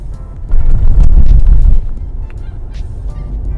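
A 2017 Mercedes C300 AMG rated at 250 horsepower accelerates hard on an empty road, its engine swelling into a loud, deep roar for over a second before easing back to a steadier drone.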